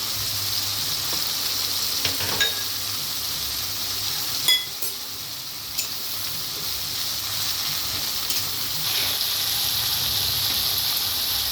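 Ginger and spices fry in a pan for a milk paneer dish, producing a steady, close hiss and sizzle with a few sharp clinks of stirring and no voices.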